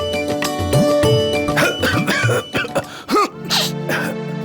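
A man in a Bengali crime drama gives a few harsh coughs and throat-clearing sounds near the end, set over loud, steady background music.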